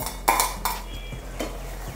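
Tomatoes sautéing in a pan for beef gravy, with a few sharp clinks of a metal spoon against the pan over a faint low sizzle, close and brief.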